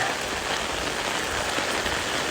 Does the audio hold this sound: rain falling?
yes